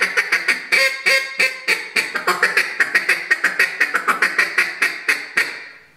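Rapid, choppy run of duck-call feed chatter, a fast burst of clipped quacking notes broken into short groups, loud and close throughout with no voices.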